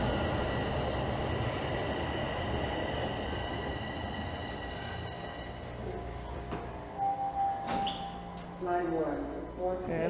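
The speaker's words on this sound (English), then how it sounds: "And I think there's another northbound train rolling in right now." A northbound subway train rolls into Pioneer Village station in Toronto, its loud rumble easing as it slows, then high wheel squeals and a chiming station tone ring out near the end.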